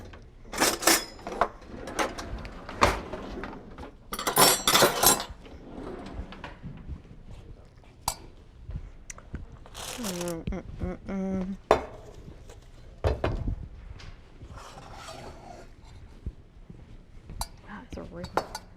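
In a kitchen during a vegan Mexican-night cooking class, a serving spoon and hot pans clink and clatter in scattered bursts, with glass and cutlery rattles and a drawer sliding, while people talk quietly nearby.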